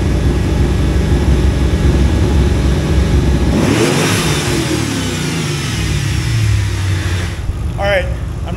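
A twin-turbo Ford Crown Victoria with a $160 junkyard motor revs hard at a drag strip, its engine roaring loudly and continuously with a rising pitch sweep and misfiring, while voices are heard near the end.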